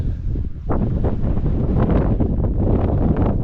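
Strong wind buffets the microphone on open moorland at Bodmin Moor near Minions, a continuous loud rumbling roar with gusty surges and no voices.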